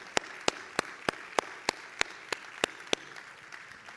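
Sparse, evenly spaced hand claps ring out in a church congregation, about a dozen sharp claps in a steady rhythm, fairly close, then fading to quiet room tone.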